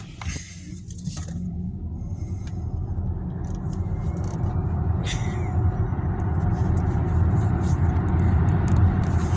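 Volkswagen ID4 electric SUV accelerating hard in sport mode toward 100 km/h, a steady low road and motor rumble that swells gradually louder from inside the cabin, with no talk over it.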